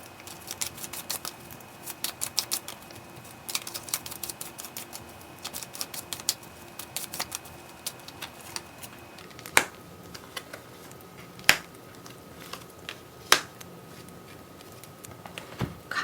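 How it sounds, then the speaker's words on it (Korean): Tarot cards shuffled by hand during a weekly pick-a-card reading, a soft pattering riffle with scattered sharp taps and snaps standing out at close range, no voices. "그러면 저는 이제 카드를 섞을게요"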